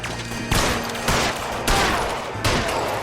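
Gunfire from the 1947 Los Angeles detective game L.A. Noire: four sharp shot bursts spaced roughly half a second apart, loud and close over a steady background hum, with no talking.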